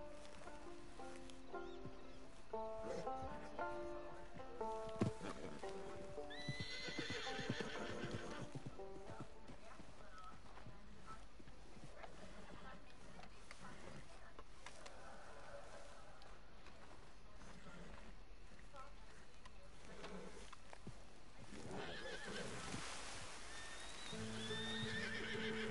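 A horse in Red Dead Redemption 2 whinnies several times over steady clip-clopping hooves and a rainy outdoor bed, with someone talking intermittently.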